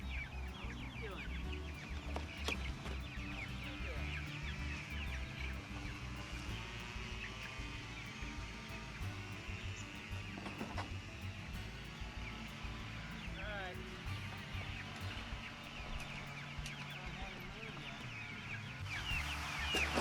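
Cornish Cross meat chickens in a backyard brooder pen cluck and peep steadily throughout, a dense flock chatter close by with a person talking over them.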